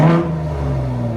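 A 2021-24 third-generation Ford F-150 Raptor with an AWE catback exhaust revs once, a sharp loud blip settling into a steady deep exhaust drone, close by and with no talking.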